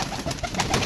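Pigeons on a rooftop coo softly, a brief stretch of low, warbling calls over a steady background hiss.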